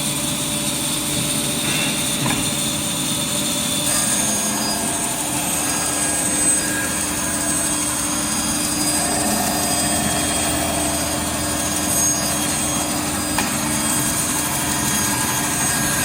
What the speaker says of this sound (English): Now we will low down the saw blade, trim another piece.